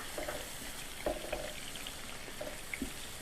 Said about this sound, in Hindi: ऑयल को दोबारा गर्म कर लीजिए और इसमें डाल दीजिए ये टोमेटो।